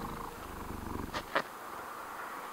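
A house cat named Tuco purrs very close to the mic, a soft steady rumble with a couple of brief sniffs or nose bumps against it partway through, no voices.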